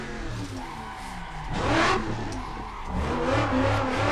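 A white Mazda Miata in a racing video game, its engine droning and rising in two revving surges over a steady mid-pitched hum, close and fairly loud with no talking.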